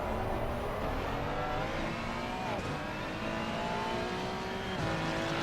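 A Ferrari race car in the game Assetto Corsa Competizione howls steadily at high revs through a final corner at Donington, with a continuous loud engine note, brief dips as the driver lifts and shifts, and no speech.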